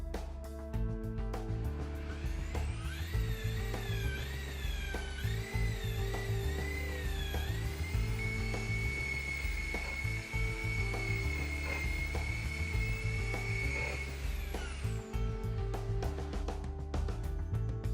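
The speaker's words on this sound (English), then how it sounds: "add a small amount of Malco Headlight Lens Repair Polish to the headlight, and buff the lens until you achieve a clear finish" A rotary buffer polishes a headlight lens with Malco Headlight Lens Repair Polish, a sustained motor whine that rises and wavers in pitch as pressure shifts, with steady mechanical rumble throughout and no talking.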